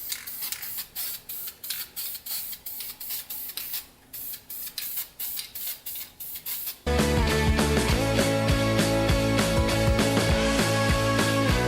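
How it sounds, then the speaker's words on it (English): Flame-proof VHT paint sprayed from an aerosol can onto a Honda CR125 dirt bike exhaust pipe, a series of short hissing bursts in quick succession before loud music takes over. "using some flame-proof VHT paint to paint the pipe here"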